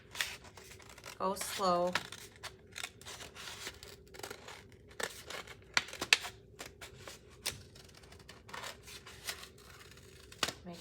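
Scissors cut through a folded paper plate for a dreamcatcher craft, a series of close, crisp snips and papery crackles spread irregularly across the moment, with a brief spoken instruction partway through.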